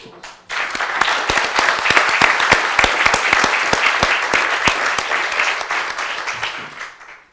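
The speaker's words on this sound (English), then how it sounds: "so we should give him a round of applause." An audience at an African Voices event breaks into loud, dense applause that starts abruptly, holds steady for several seconds and then tapers off quickly into quiet.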